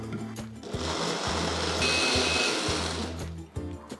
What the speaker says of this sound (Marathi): मिश्रण हलकंसं थंड झालं की मिक्सरमध्ये काढून घेऊयात आणि छानपैकी प्युरी करून